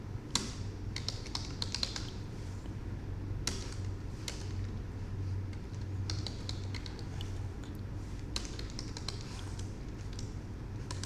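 Steady, quiet typing on a computer keyboard while writing smart-contract code, a continuous patter of close key clicks with occasional louder taps and no talk.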